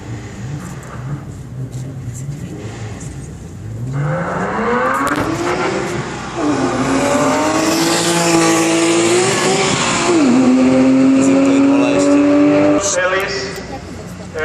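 Porsche 911 with rear-mounted engine and rear-wheel drive launches hard, engine rising sharply in pitch through several gear changes with tire noise, loud and close, with people talking over it.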